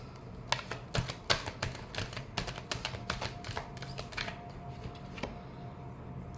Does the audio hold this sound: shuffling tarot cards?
yes